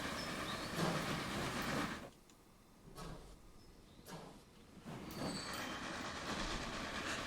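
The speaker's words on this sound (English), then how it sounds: "That's the passenger train" Passenger train rolling along in the video game Transport Fever 2, a steady rumbling rail noise with wheel clatter that dips briefly twice before picking back up, heard alone without talk.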